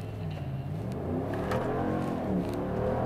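A 2018 Ram 1500 pickup with a 5.7-liter Hemi V8 and eight-speed automatic accelerates, its engine note rising and shifting in a steady, moderately loud rumble with no talk.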